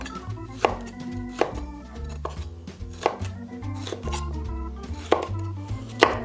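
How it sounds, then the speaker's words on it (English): A knife chops red capsicum into roughly centimetre-square pieces for Hungarian goulash, giving a steady run of crisp taps on a cutting board with music playing in the background. "Time to slice it up into small pieces."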